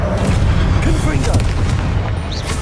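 Fiery blast of the Confringo spell in Hogwarts Legacy, a dense, rumbling explosive roar that fills the moment loudly and continuously, with a spoken voice mixed in.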